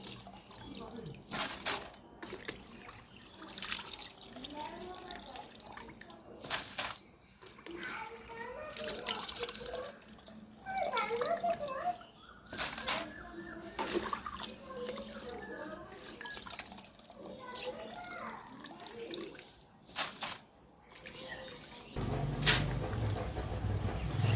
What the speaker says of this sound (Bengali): চালটা ভালো করে ধুয়ে ছেঁকে নিতে হবে